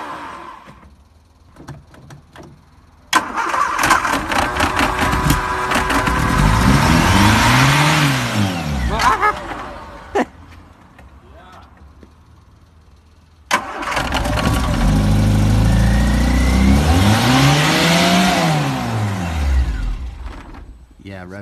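A Ford Escort Mk2 engine cranks and catches, then revs hard in two long rising and falling bursts separated by a rough idle, loud and close, with people talking in between.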